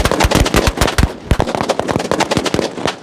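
A string of twenty Jallikattu firecrackers goes off outdoors in a fast, crackling burst. The bangs come in rapid, uneven succession for about three seconds, loud and close.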